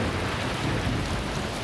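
Rain pours down steadily in a broad, dense hiss with a low rumbling undertone, evenly loud throughout a brief stretch, with no voices.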